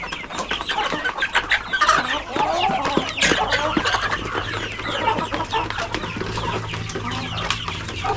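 A flock of chickens clucking and squawking continuously, many birds close by with overlapping calls over a low background hum.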